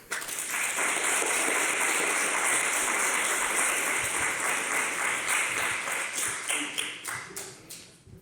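An audience at a US Virgin Islands tech competition claps for a team, a dense, loud round of applause that holds steady for several seconds, then thins into scattered claps and fades out.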